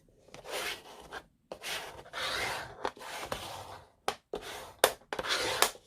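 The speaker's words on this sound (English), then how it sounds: "fold that over and we'll burnish the side of that" Paper card base, folded to 6 by 6, burnished along the crease: close, dry rubbing and scraping strokes in short bursts separated by brief pauses, with a couple of sharper scrapes near the end.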